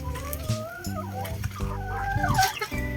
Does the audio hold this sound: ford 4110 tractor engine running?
no